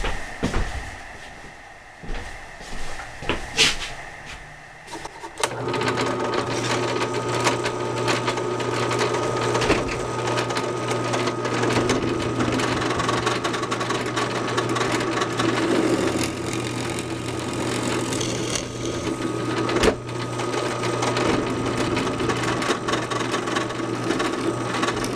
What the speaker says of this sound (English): Off to the drilling.